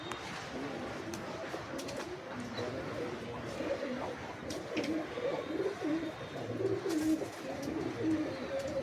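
Giribaz and Teddy pigeons coo in low, rolling murmurs that overlap steadily throughout, fairly close and continuous, with faint background noise and a possible hint of a voice.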